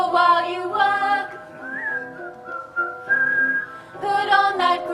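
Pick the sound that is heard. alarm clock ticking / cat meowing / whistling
whistling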